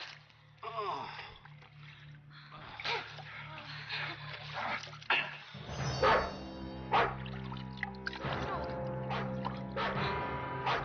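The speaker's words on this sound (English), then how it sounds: "It's Amathar's dog." A dog in a 1979 Tower of Babel film scene barks several times amid a chase, mixed with panting, gasps and splashing water, with people's voices and music running alongside.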